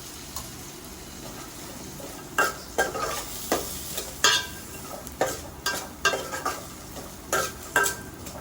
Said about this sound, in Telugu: తురిమిన కొబ్బరిని దోరగా వేయించుకొని ఒక పక్కన ఉంచుకోవాలి